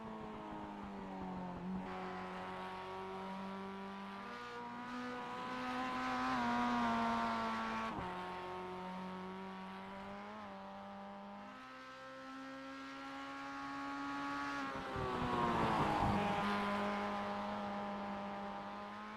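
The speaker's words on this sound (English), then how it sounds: "As Kaz Grala here in that number 16 MX5 car, he's going to bring it down into turn 1 for his flying lap" Mazda MX-5 race car engine in iRacing on a flying lap at Lime Rock, a loud, close, buzzing drone that climbs in pitch through the gears, drops sharply at each shift and braking point, then rises again, with no voices.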